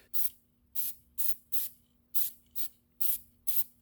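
Eight short hissing bursts from an aerosol can spray onto the rear brake parts of a 2018 Lexus ES 350, evenly spaced and close, each a sharp sputtering hiss with no voices.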